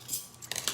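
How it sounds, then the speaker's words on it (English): A few quick, crisp snips and crinkles of kitchen scissors cutting through a cake mix bag, faint and close, lasting under a second. "Everybody needs kitchen scissors, don't you?"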